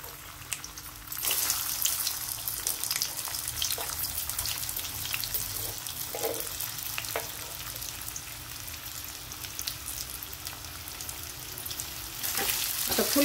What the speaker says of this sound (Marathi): आता आपल्याला या बटाट्याच्या काप याच्यात परतून घ्यायच्या चांगल्या।